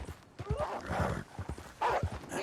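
Horse hooves clip-clop in Red Dead Redemption 2, joined by a whinny, with dogs or wolves also faintly present; short rhythmic footfalls and a rising neigh sound close and fairly loud.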